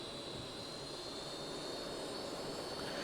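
Hawker Hunter jet engine spooling at take-off in the Prepar3D flight simulator, a steady loud roar with a high whine on top that holds constant throughout.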